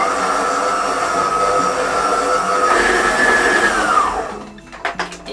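An electric mixer whirs steadily while combining flour, yeast and salt into scone dough, a loud continuous motor drone that rises slightly in pitch and then cuts off near the end, followed by a few soft clatters.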